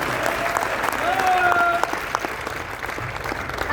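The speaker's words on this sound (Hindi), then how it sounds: "आपकी जोरदार तालियां।" Dense, sustained applause from an audience at a gathering, filling the whole stretch with a brief announcing voice and a faint tone over it.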